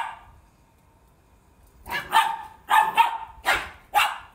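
Several dogs bark in short, sharp bursts while they chase each other outdoors. About five loud barks come close together after a quiet start.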